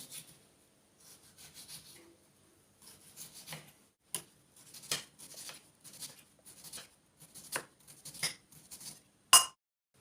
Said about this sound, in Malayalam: ചുരുട്ടിയെടുത്ത ശേഷം ചെറുതായിട്ട് വളരെ കട്ടി കുറച്ച് അരിഞ്ഞെടുക്കുന്നു